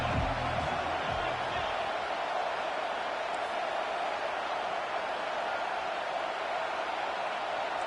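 A steady roar of a football video game crowd swells on a third-down defensive stand, a dense constant wash of cheering noise throughout, with faint low rumbles early on.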